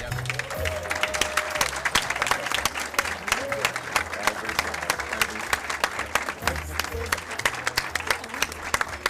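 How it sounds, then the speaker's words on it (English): Teachers receive a round of applause from the audience at a Maryland State Board of Education meeting in a boardroom, steady dense clapping sustained for about nine seconds, with a low voice or background murmur running underneath. "Would all the teachers stand for a round of applause?"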